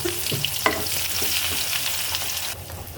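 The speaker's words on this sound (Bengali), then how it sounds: "তেলের কড়াইয়ের সাথে পেঁয়াজ কাঁচামরিচ দিয়ে ভেজে শুকনো মরিচগুলো ভেজে নিব" Onion and green chilies fry in oil in a wok, a close, continuous sizzle broken by a few scraping stirs, the crackle dipping a little toward the end with no talking.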